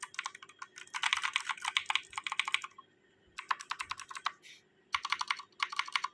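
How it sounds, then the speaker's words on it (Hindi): A DK61 compact 60% mechanical keyboard with hot-swappable switches being typed on in fast bursts of crisp, clacky keystrokes, separated by short pauses, close and clear with no talking. "ये जी DK61 है। साउंड अगर क्वालिटी की बात करें तो साउंड ऐसी है"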